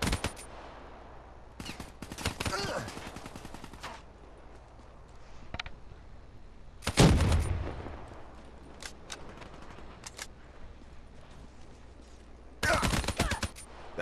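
Automatic weapon fire in a Black Ops 3 free-for-all match, several separate bursts of rapid shots spread across the stretch, some loud and close, others fainter, with quiet gaps in between.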